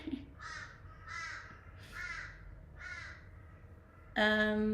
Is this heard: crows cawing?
yes